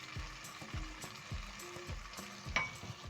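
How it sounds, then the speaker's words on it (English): Tomatoes with salt and seasoning cubes sizzle in a pan while being tossed, with repeated soft thumps and scrapes of a spoon over a steady frying hiss. "Toss the seasoning in the tomatoes."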